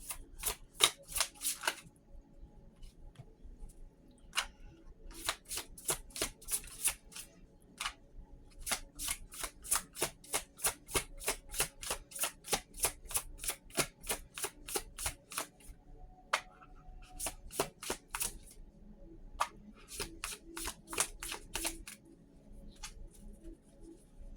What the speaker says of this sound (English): go ahead and shuffle through these one more time